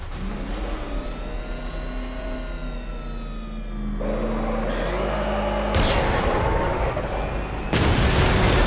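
In Batman: Arkham Knight a tank attacks amid engine roar, with a rising mechanical whine followed by heavy booming blasts and bursts of gunfire-like noise, loud and close.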